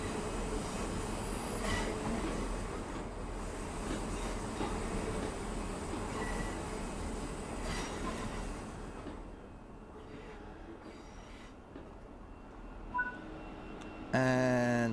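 Class 350 electric train creeping into Birmingham New Street in Train Sim World 5, a steady rolling rumble with faint wheel squeal that eases off as it slows, ending in a short burst of mechanical noise.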